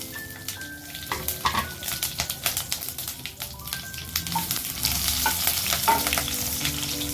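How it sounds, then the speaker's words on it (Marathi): Mustard seeds and green chillies frying in a little hot oil, a steady close sizzle with sharp crackles and pops from the seeds throughout, plus occasional stirring sounds. "तेल गरम होताच आपण टाकणार आहोत मोहरी. नंतर 3 ते 4 हिरवी मिरची."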